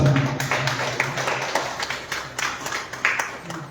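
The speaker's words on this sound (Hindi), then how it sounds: "मेरा मन है कि एक बार जोरदार तालियों से पुनः अभिनंदन करें राष्ट्रीय अध्यक्ष जी का" Applause from the audience at an evening poetry gathering in Lucknow honouring the national president: a steady, moderately loud wash of many hands clapping, with some sharper individual claps and a faint murmur of voices underneath.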